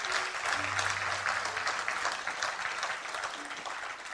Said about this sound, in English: may i have a round of applause for all of you